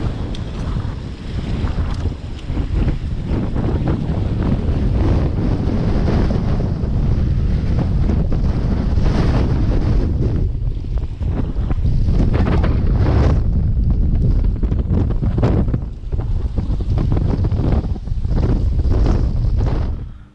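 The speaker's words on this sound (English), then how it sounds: "It was just super windy." Strong wind buffets the microphone in a constant heavy roar on a fishing trip in England, with water splashing against a boat and gusts swelling and easing throughout.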